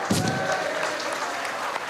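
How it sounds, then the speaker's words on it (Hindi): An audience at a religious gathering claps together in a dense, continuous patter of applause lasting a couple of seconds, moderately loud and without speech. "हाथ उठा के ताली बजा के बोलिए"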